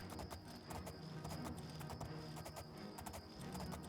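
A horse gallops in the video game The Elder Scrolls IV: Oblivion, its hooves beating a fast, regular rhythm of quiet, distinct thuds over a faint ambient bed of insects and birds.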